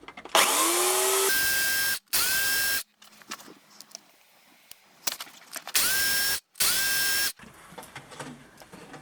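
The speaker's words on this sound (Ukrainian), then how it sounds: "Як бачите, пилка ріже." A Makita UC4041A electric chainsaw cutting slightly rotten wood. It whines loudly in several bursts, each rising as the motor spins up and cutting off sharply, with quieter crackling and handling noise in between.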